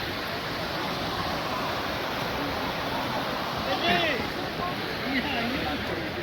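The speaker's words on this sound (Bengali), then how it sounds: "আমরা চলে এসেছি এই একটা ফলসে, তোমাদের সাথে ভিউজটা দেখাচ্ছি।" A waterfall in hilly country, its water coming down from higher up the slope, makes a steady, broad rushing roar close by that fills the whole clip, with faint voices drifting under it now and then.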